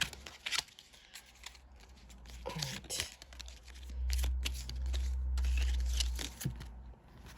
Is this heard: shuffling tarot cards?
yes